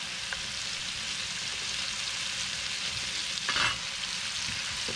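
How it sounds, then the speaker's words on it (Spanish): Garlic, hot chili and long beans sautéing in a pan, a soft, even sizzle with a brief stirring clatter toward the end, quiet and unbroken by voices. "Seguimos sofriendo y ahora vamos a agregar las habichuelas"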